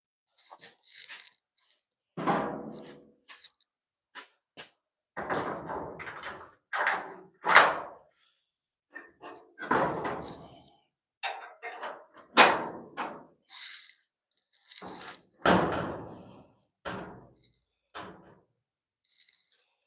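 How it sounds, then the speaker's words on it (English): A damaged wooden door with a missing hinge and a bullet hole being handled and moved, giving a series of irregular knocks, scrapes, thuds and creaks at close range. "Let me grab that door that was missing its hinge."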